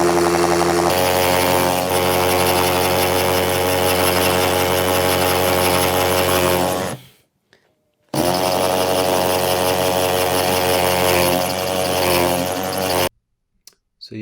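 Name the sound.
electric drill drilling a hole in a wall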